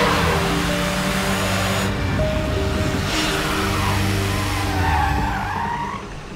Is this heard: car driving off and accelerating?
yes